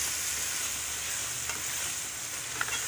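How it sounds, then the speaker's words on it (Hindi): Tomatoes and green chillies frying for chicken korma give a steady, close sizzle with a few faint stirring scrapes, heard alone with no talk. "ये टमाटर और सब्ज़ मिर्ची शामिल की है, ये फ्राई कर रही हूँ।"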